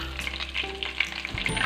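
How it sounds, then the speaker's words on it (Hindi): Semolina toasting in hot oil in a pan for suji ka halwa: a close, steady frying hiss with scraping spoon strokes, under a low, continuous electrical hum. "इसमें हम सूजी को भून लेंगे अच्छी तरह से।"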